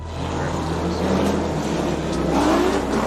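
A supercharged V8 drift car, Alex Lichliter's NonStopTuning 86, roars under hard acceleration at a Formula Drift event in New Jersey, a loud, steady engine drone that holds throughout with rising pitch sweeps.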